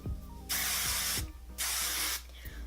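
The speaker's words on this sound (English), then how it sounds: "I'm going to spray everything. I'm using the Smart Solutions hairspray." Smart Solutions hairspray being sprayed over hair in two long, steady hissing bursts separated by a short pause, close and fairly soft, with a faint low hum underneath.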